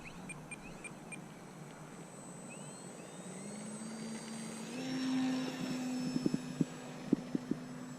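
A HobbyZone Carbon Cub S2 RC plane's electric motor whines steadily, then rises in pitch as it throttles up for takeoff outdoors, joined near the end by a few sharp clicks.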